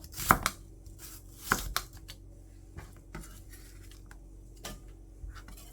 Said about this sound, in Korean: 양파 50g 얇게 썰어서 준비해 주고요.